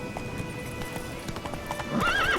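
Roach, a horse in The Witcher 3, galloping with a quick, even clip-clop of hooves on the ground, then breaking into a loud whinny near the end, with no talking.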